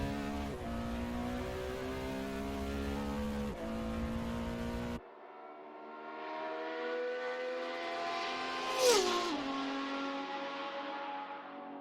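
A Porsche 917K race car engine drones loudly in a racing game at Le Mans 1967, with an abrupt cut midway, then a car sweeps past with a rising and falling whoosh.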